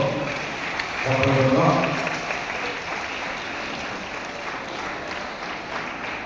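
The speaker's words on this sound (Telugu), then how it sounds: "మన ఎమ్మెల్యే గారు మరి హ్యాపీ క్రిస్మస్ కేక్ మరి కట్ చేయించుకుంటుండగా అందరూ కూడా చప్పట్లతో" A church congregation bursts into applause during a Christmas cake cutting, a dense crowd of clapping hands swelling early then continuing steadily, with some voices mixed in.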